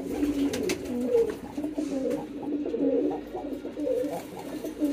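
Pigeons coo repeatedly in a loft, a male calling in low, throaty, rolling phrases close by, steady and unbroken over a faint room background.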